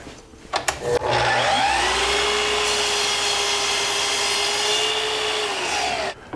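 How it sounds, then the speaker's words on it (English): A miter saw cutting walnut spins up with a few quick clicks, then runs as a loud, steady whine through the cut for about five seconds before shutting off abruptly. "I'm over here at my miter saw. I'm going to use the laser to my advantage. I'll lock it down. I'm going to make that cut."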